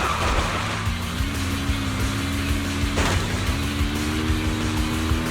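A car driving in the game Zenless Zone Zero, a steady engine drone with rising pitch shifts as it accelerates, loud and continuous for the whole stretch.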